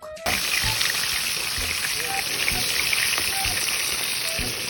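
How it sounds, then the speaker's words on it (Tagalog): Steady, crackling sizzle of fish frying in hot oil, close and continuous, with small pops scattered throughout. "habang nagpiprito nga dyan guys si Dugong"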